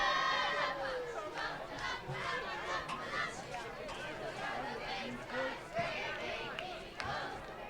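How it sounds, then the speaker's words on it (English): Eagles cheer squad singing their school fight song in the stands after a Big Sky high school football game against Helena, the chanting voices mixed into loud crowd noise and chatter throughout. "You can hear the Eagle cheer squad singing the fight song for Big Sky."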